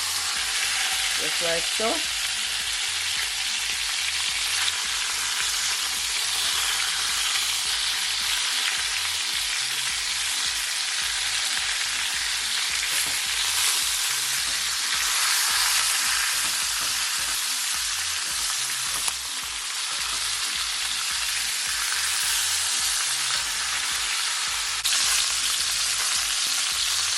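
Pork for a Jamaican pot roast stew fries in a pot with a steady, loud broadband sizzle throughout, with a few clunks as the meat is flipped and a brief spoken remark early on.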